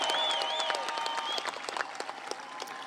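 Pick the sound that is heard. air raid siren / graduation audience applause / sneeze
graduation audience applause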